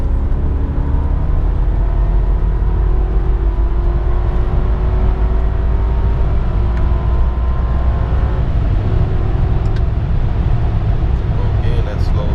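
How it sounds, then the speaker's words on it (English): A 2003 BMW 745i E65 accelerating hard from third gear, a steady loud engine drone with a rising pitch over constant road and wind noise, heard from inside the car. "let's see how this car runs from third gear"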